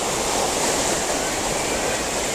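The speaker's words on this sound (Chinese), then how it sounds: "黄河水啊，从这里引进来，然后驱动这个大水车转动" Yellow River water diverted through a channel to turn a large water wheel at a water wheel park in Lanzhou. It makes a close, steady rushing roar with no break and no voices.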